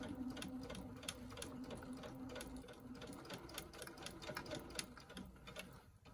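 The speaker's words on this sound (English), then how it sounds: "I'm just finishing up my stitching on top of the hat" A sewing machine stitches steadily across the top of a reversible summer bucket hat, a continuous fast rhythmic whirring and ticking heard up close with no talking.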